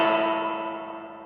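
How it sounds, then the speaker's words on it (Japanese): A guitar note played through the spring reverb of a multi-effects unit, a single struck tone ringing out and slowly decaying with a springy, metallic tail, heard alone. "なんかバネがビヨーンってなってる感じがするな。"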